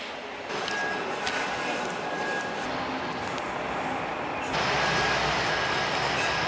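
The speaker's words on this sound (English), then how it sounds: "We love the trains." Trains run past a London balcony as a steady rumbling roar, fairly distant and constant, swelling louder for the last couple of seconds, with no talk over it.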